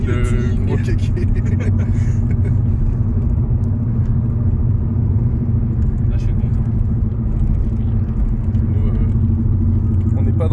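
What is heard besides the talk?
BMW 318is E36 engine running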